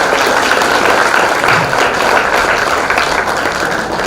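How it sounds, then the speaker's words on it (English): An audience in a lecture hall applauds, a dense, steady wash of clapping at moderate volume that continues throughout without voices. "So please give a round of applause to Dr. Gopalan."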